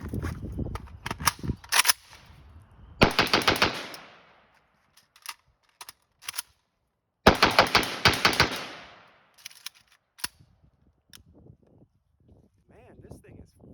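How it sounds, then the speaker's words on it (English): Rapid bursts of AK rifle fire through a CMC 2 lb elite trigger, two dense strings of quick shots with scattered single shots between, loud and close, followed by quieter handling noise near the end. "Just ran 50 rounds through this trigger, and I'm loving it."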